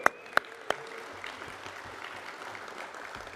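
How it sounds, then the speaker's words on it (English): A conference audience at a defense industry morning session gives applause, opening with a few sharp distinct claps before settling into a soft, steady patter. "I want a round of applause for them"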